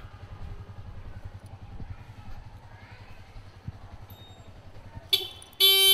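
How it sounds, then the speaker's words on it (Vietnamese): A Yamaha Exciter motorcycle idles with a low, steady rumble, then its anti-theft alarm cuts in near the end as the engine stops, blaring in loud, harsh bursts for the final second. "Chiếc xe sẽ bị tắt máy và phát ra tiếng kêu rất là lớn, hơi nháy đèn xi nhan, rất là ồn ào."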